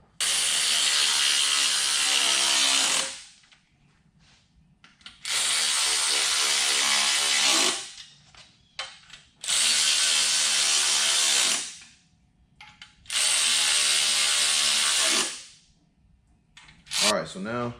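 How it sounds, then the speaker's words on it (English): A tool drives bolts onto the windage tray of an LS engine being swapped into a Pontiac Trans Am, in four loud mechanical bursts of roughly two to three seconds each, separated by quiet pauses. "Just about to put the bolts back on the windows tray."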